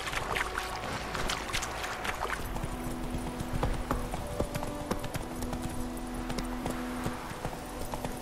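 Horse hooves trotting in The Witcher 3 video game, a steady rapid clip-clop of hoofbeats that stays loud and even throughout, over a continuous ambient bed with no talk.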